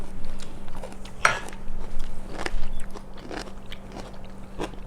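Crunchy bites of organic asparagus in close, irregular bursts, with chewing crunches and light clinks of cutlery or dishes between them, and no speech.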